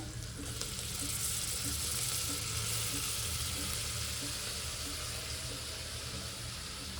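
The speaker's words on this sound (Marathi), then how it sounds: "कुकरला मी कांदा थोडा लाल परतून घेते. त्याच्यामध्ये टोमॅटो पण टाकून घेते" Onion and tomato frying in a pressure cooker for biryani, a dense, constant, hissing sizzle that stays close and loud throughout without letting up.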